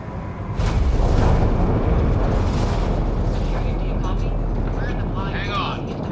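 A spacecraft's atmospheric entry in Mass Effect Andromeda, heard as a deep roaring rumble that swells and holds steady, with a faint high whine above it and people talking over the noise.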